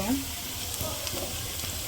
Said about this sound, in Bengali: পেস্ট ভাজা হয়েছে, আর বেশি ভাজবো না, কারণ মাংসটাও তো ভাজা ভাজা করবো।